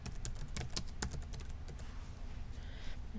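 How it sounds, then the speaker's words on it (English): Fingers typing on a computer keyboard while entering a domain name, sharp close clicks in a fast irregular patter that thins out after the first couple of seconds, over a constant low room hum. "And we're going to type in domain users."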